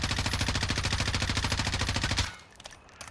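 An M4 rifle in Call of Duty Warzone fires in a steady, rapid automatic burst for about two seconds, then stops abruptly, leaving faint ambient noise.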